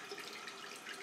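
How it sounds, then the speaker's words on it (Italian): A hot water tap is turned on for a traditional wet shave and runs in a faint, steady splashing stream, heard briefly and close. "Accendo la mia bella acqua calda"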